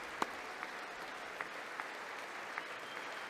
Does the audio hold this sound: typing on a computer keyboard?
no